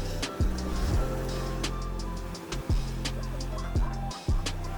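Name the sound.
ocean waves on a beach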